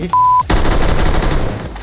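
A short electronic beep, then a loud, rapid burst of automatic gunfire from a video game gun, with sharp repeated shots and a fading echoing tail.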